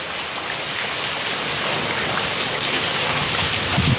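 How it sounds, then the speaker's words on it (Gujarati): Strong stormy wind in Halvad roars steadily, a dense broadband rush buffeting close by without pause and no one speaking. "અમારે અત્યારે પવન બહુ છે"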